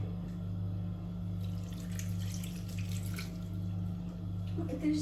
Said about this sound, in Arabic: حلي لي هذا الماء